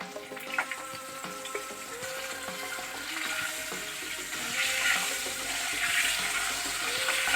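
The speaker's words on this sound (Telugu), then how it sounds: "ఎగ్స్ యాడ్ చేసి ఫ్రై చేద్దాం." Eggs frying in a pan for egg curry, a steady loud sizzle and crackle lasting throughout, with no talking.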